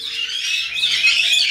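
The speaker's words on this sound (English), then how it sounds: "let's give out some pistachios and make some parrots happy" Pet parrots squawk and chirp continuously while being handed pistachios, a close, steady chorus of shrill calls with no pauses.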